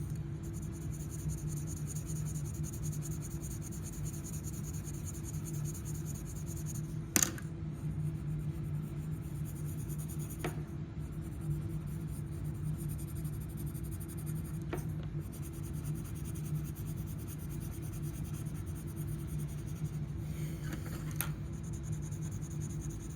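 Colored pencil shading a ribbon drawing on paper, a soft continuous scratchy stroking that runs steadily and closely throughout, with a few brief louder taps, no talking.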